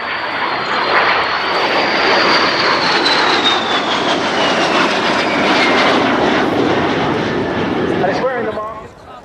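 A de Havilland Vampire jet aircraft passes at an air show, a loud sustained jet roar that swells, holds for several seconds, then fades away at the end.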